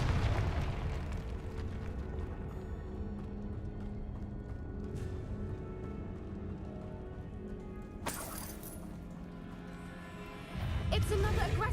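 Confringo fire spells burst in the Hogwarts Legacy video game, a few separate explosive blasts over a continuous rumbling game soundscape.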